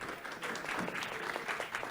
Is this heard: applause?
yes